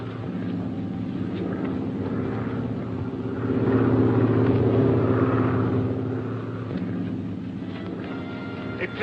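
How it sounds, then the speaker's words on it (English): Propeller aircraft engine from a 1943 adventure serial, a steady low droning rumble as the plane circles to land, swelling slightly louder midway and then easing back, heard alone without talk. "The plane is circling to land."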